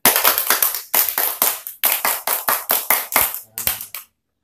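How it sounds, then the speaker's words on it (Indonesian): A group of young scouts claps the tepuk pramuka pattern together: sharp, close, rhythmic claps in quick runs with short pauses between phrases, ending abruptly in silence. "Ayo, kita bareng-bareng tepuk pramuka yuk"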